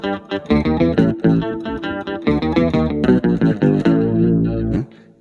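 Electric guitar played through a Hotone Octa octave pedal with the octave-down voice added, giving a thick, slightly warbly tone; a run of plucked single-note lines and chords, loud and close, with no talking.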